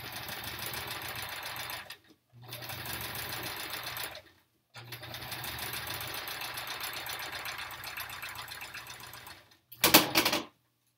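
A sewing machine stitches a foundation paper pieced quilt block in three sustained runs of rapid, even whirring, close and fairly loud. Short pauses separate the runs, and a brief sharp burst near the end could be thread trimming.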